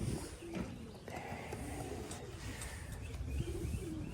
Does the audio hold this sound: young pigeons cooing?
yes